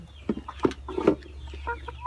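Laying hens cluck in short, irregular bursts while feeding, close by and fairly loud over a steady low hum.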